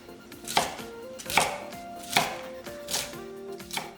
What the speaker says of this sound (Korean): 양배추 60g은 1cm 두께로 채 썰고, 다시 1cm 넓이로 썰어